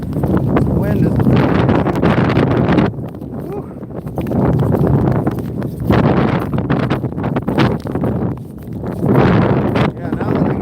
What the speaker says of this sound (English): now that I get into this wind, it's probably even colder wind chill